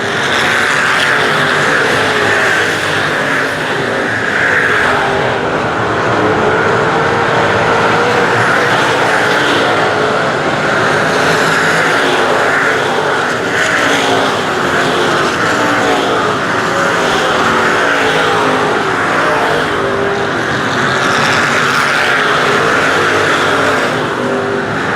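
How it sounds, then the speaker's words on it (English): Race cars roaring around the dirt oval at Cotton Bowl Speedway, a loud unbroken wall of engine noise for the whole stretch as several cars battle down the back straight. "Some tight quarter racing down the back stretch between the Chris Birmingham, the OK car, and the 51."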